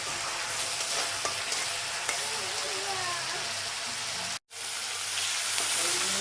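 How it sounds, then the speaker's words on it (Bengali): Ginger and garlic fry in a wok with a little water for chicken biryani, giving a dense, continuous sizzle with stirring scrapes throughout and a brief dropout near the end. "আর নাড়াচাড়া দিতে হবে, নাহলে কিন্তু কড়াইতে লেগে যেতে পারে।"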